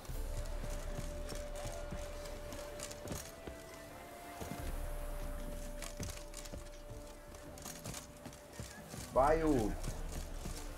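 Horse hooves clip-clop on the ground in The Witcher 3: Wild Hunt, a quiet rhythmic patter under game music and a spoken voice, with a horse neigh near the end.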